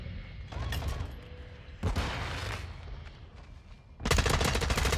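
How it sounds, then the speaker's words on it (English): Repeated shotgun blasts and gunfire in the video game Modern Warfare 2, loud bursts around a dense game mix, with a heavy volley near the end. "the damn shotgun is annoying"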